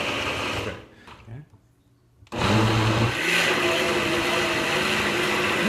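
A countertop blender runs loud and steady while pureeing broccoli soup, cutting out briefly for a second or two before surging back to a sustained whir to the end, with a voice speaking over the start.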